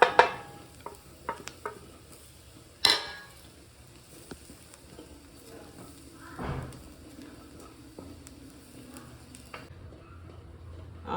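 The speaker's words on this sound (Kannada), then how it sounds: "ಖಾರದ ಪುಡಿ, ಧನಿಯಾ ಪುಡಿ, ಅರಿಶಿಣ ಪುಡಿ, ಕಡಲೆಪಪ್ಪು, ಗಸಗಸೆ ಇದನ್ನೆಲ್ಲ ಹಾಕ್ಕೊಂಡು 1 ನಿಮಿಷ ಹುರಿದ್ರೆ ಸಾಕು" Chili, coriander and turmeric powders, chana dal and poppy seeds are roasted in a pan for a village-style country chicken curry, giving faint intermittent stirring scrapes and light clicks over a low sizzle, no speech.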